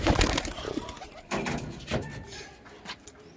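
Teddy pigeons of a pure red-line strain coo close by, a few low soft calls with a burst of louder activity at the start, mixed with bumps and rustling.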